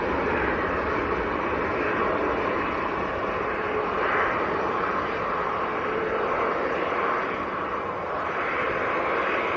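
A British Airways Airbus A319 at Manchester Airport gives a steady, broad jet engine roar that holds evenly throughout, moderately loud and continuous with no talking.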